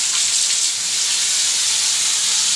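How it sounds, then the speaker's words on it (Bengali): Fish frying in a home kitchen pan gives a steady, loud sizzle and hiss that runs unbroken throughout, with no talking. "আমি মাছ রান্না করছি।"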